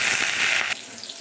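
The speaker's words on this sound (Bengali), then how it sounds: "এবারে তেল নুন কাটা ভেজে নিয়েছি, আর বেগুনটা দিয়ে দিলাম" Salt-cut and eggplant frying in hot oil give a loud, dense, steady sizzling hiss that drops abruptly to a softer crackle partway through, with no voices.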